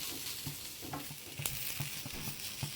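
Raw banana slices roasting with coconut masala in a pan for a wedding-style vazhakkai fry, a steady sizzle broken by regular scraping stirs about every half second, close and alone.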